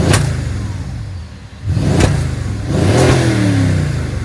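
A Mercedes-AMG GLE63 coupe engine revs hard in loud bursts up to its rev limiter, with rising and falling engine tones, close and alone.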